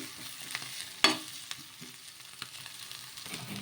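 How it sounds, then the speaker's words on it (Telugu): Chopped onion, tamarind and fresh coriander stir-fried in a pan, a soft continuous sizzle with light spatula scrapes and one sharper clack, quiet and close, no talking. "ఇలా కొత్తిమీర కూడా వేసేసుకున్న తర్వాత 1 నిమిషం పాటు ఇవన్నీ మగ్గించుకోవాలి"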